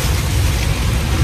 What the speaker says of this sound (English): Pouring down raining out here